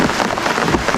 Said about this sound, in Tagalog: Umuulan na.